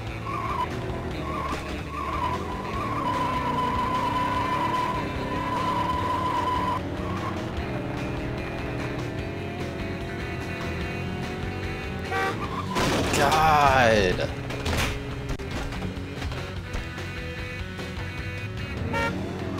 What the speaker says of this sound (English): why are there so many cars?